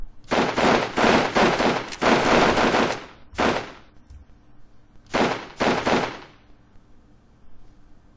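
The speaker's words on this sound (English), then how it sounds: "they're going to return fire to the other pinned units" Bursts of video game machine-gun fire from pinned units returning fire in a Winter War battle at Terijoki, several long rattling volleys close together, then two shorter bursts after a pause.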